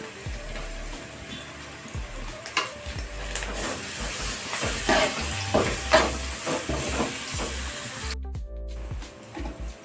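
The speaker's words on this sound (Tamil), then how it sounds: "வெங்காயம் போட்டுக்கலாம். வெங்காயம் வதங்கணும். இஞ்சி பூண்டு பேஸ்ட்டு," Onions sauté with ginger garlic paste in a pan for prawn thokku, a steady close sizzle broken by scraping stirs, ending abruptly in a brief hush near the end.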